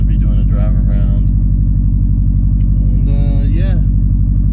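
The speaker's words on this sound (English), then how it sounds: "just waiting for my car to warm up" A car engine warming up, idling with a loud, close, steady rumble throughout while a voice talks over it.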